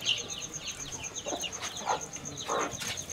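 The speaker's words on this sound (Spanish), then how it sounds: "Hay mucho pollito." Chickens and chicks cluck on a ranch in a few short, bright calls spread across the moment, fairly close, over a faint steady high-pitched background tone.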